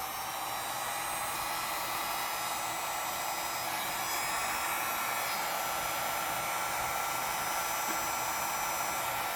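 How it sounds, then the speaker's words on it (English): A heat gun blows a steady, even rush of air with a constant hiss throughout, no voices. "Because heat gun gets very hot."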